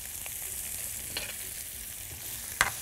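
Diced onions seasoned with salt and black pepper fry in a pan for a potato tray bake, a quiet, steady sizzle with a couple of faint stirring scrapes and one sharp clink near the end.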